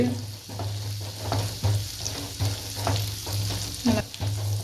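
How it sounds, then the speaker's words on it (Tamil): Masala frying in a pan on a low flame, a continuous soft sizzle with a spoon stirring in repeated scraping strokes every half second or so, close up and steady. "ஸ்டவ்வை லோ ஃப்ளேமில் வச்சு நல்லா வதக்கி விட்டுப்போம்"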